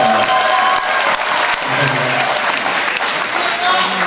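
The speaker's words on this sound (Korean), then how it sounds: "여러분 큰 박수" A crowd claps steadily and loudly for a few seconds, a dense wash of applause with a brief lull near the middle.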